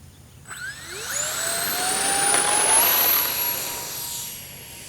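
An XFly Twinliner model jet with twin 40mm electric ducted fans flies past, its high whine rising and sliding in pitch as it passes, loud and steady over the whole stretch.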